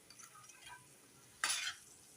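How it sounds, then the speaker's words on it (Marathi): Soaked dried peas being stirred into a spice masala in a pan, a brief scraping, sizzling burst after a quiet stretch, close and fairly soft. "आता आपल्याला वाटाणे मसाल्यांमध्ये छान प्रकारे मिक्स करायचे आहे."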